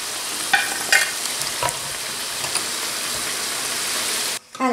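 Griwech pastries frying in hot oil give a steady, dense sizzle with a few louder crackles and pops, close and continuous until it cuts off briefly near the end.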